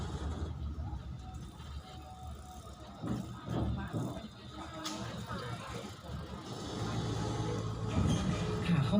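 Sightseeing tour train running through a zoo in Korat, with a continuous rumbling and rattling mechanical drone that grows slightly louder toward the end, under a voice speaking over a loudspeaker.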